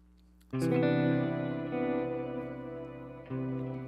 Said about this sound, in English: I have a reverse delay and I have a shimmer effect on here as well